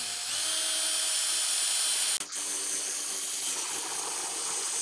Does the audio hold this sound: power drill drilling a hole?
yes